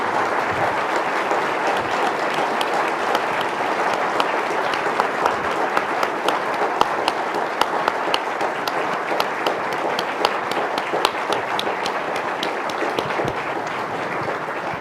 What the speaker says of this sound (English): Would you please join me with your applause in saying thank you to Dr. Henry Kissinger?